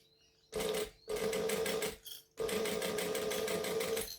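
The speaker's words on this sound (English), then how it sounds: "now I'm just going to top stitch from here and then around" Sewing machine running in three bursts while top stitching a quarter-inch line around a fabric wristlet. Short pauses separate the bursts, the stitching is loud and close, and no voices are heard.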